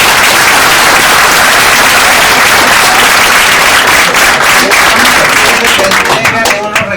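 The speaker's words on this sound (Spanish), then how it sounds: "vamos a darle un fuerte aplauso a nuestros invitados" Loud, dense applause from a seminar audience on circular economy, honoring invited guests; steady clapping fills the room and thins slightly toward the end.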